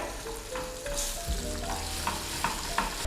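Unsalted butter is stirred into cooking caramel in a pan over low heat for apple crumble, giving a steady sizzle with scraping stir strokes and a few soft knocks.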